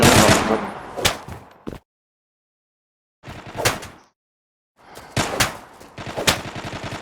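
Automatic gunfire in the video game Zula: loud rapid bursts of shots in three separate volleys with short silent gaps between them, close and without talk.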